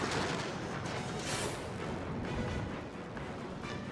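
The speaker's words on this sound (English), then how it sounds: "their military base is firing at one of our objectives" Continuous rumbling artillery fire comes from a military base firing at an objective in a combat flight game featuring the Me 209 A, a dense, loud, sustained barrage with no voices.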